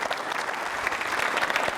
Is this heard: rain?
no